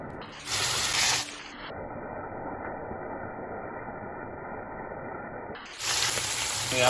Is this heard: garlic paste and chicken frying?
yes